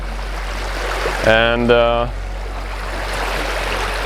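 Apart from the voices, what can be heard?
river stream flowing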